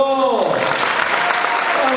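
A crowd at a live danzón dance performance breaks into applause, a wash of clapping under a loud announcer's voice, following a fading musical tone.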